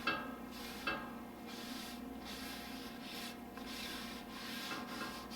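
A cloth rubs oil off a Blackstone griddle's steel surface in quiet, rhythmic wiping strokes, roughly one sweep per second, close by with no talking.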